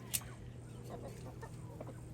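A rooster clucks softly with a few short low clucks at moderate distance over a faint steady hum, no talking.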